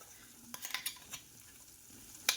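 Coarsely ground moong dal is stirred in hot oil with masala for kachori filling, giving a quiet, low sizzle broken by a few short scraping strokes of a spoon against the pan and one sharper clink near the end.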